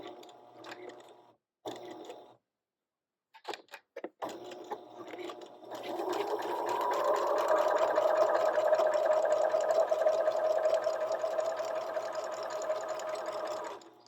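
A sewing machine stitching seams on a fabric egg. A few short start-stop bursts come first, then a long, steady, close mechanical whir of rapid stitching.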